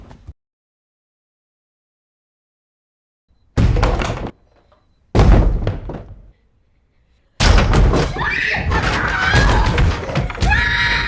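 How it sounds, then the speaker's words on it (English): Several loud, abrupt bangs on the walls of a house with silence between them, then a longer burst of heavy thumping and clattering. "These loud bangs all over the walls."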